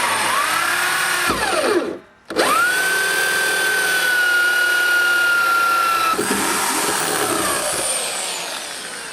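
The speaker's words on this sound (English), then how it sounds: "And all I'm using is a circular cutter on a drill." Drill fitted with a circular hole cutter boring through a plastic water butt at an allotment, a loud close whine that rises to a steady pitch, stops briefly, restarts and grinds on, tapering at the end.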